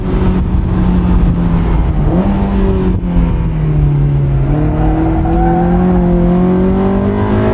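A 2001 Honda S2000 accelerates through the gears from inside the cabin. Its loud engine note climbs, drops briefly at a shift, then climbs steadily again under constant road noise.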